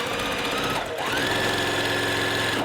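A sewing machine runs continuously as quilt block pieces are stitched together, with a steady close whir and a brief dip in the motor's pitch partway through.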